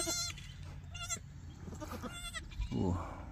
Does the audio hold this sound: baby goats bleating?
yes